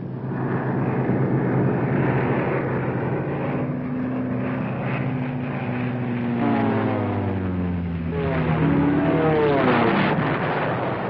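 Lightning fighter planes fly in on a bombing raid against the Ploiești oil refineries in Romania, their engines droning loudly and continuously with pitch sweeping as aircraft pass nearby.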